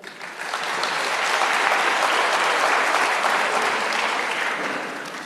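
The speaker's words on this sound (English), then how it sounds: "I also want us to give a round of applause to the neighborhood watchers, to the patrollers of the area." Audience applause at a SAPS imbizo community meeting, a dense steady wash of many hands clapping that swells quickly, holds for several seconds, then begins to taper.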